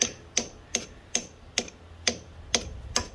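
A body hammer taps a governor shaft seal into place on a 24hp Kawasaki engine: eight sharp, evenly spaced metallic knocks about every 0.4 seconds, close and clear with nothing else underneath.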